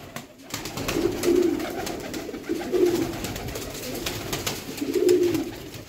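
Pigeons coo in low, rolling phrases, about three calls spaced a couple of seconds apart, with faint background clatter.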